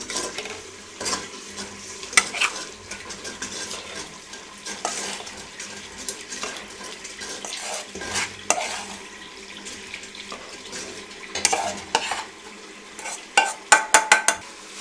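A whisk stirs yogurt and gram flour batter for karri pakora in a pot, giving soft, wet, rhythmic sloshing and scraping strokes, close and fairly quiet, growing busier and clattering toward the end.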